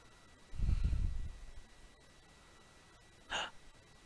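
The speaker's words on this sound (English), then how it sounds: "Gasp." A single sharp, breathy gasp from Hatoful Boyfriend rises and fades over about a second, followed by a brief, fainter puff of breath in otherwise near silence.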